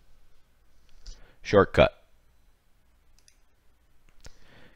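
Two sharp mouse clicks on a Windows 10 desktop, one near the start and another around four seconds in, separated by a brief spoken word.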